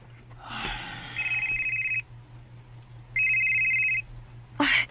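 A telephone rings twice in even bursts, loud and near, with a faint voice and a short bump of noise between and after the rings.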